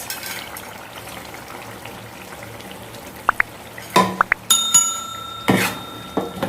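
Fried anchovies get tipped into petai sambal and stirred in the pan, a soft sizzle with a few sharp clinks, then louder scraping and stirring bursts toward the end.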